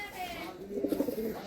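Andhra pigeons, a pair of Howrah high-flying pigeons, give soft, low rounded coos that grow clearer and pulse in the second half, with faint background noise and no talking.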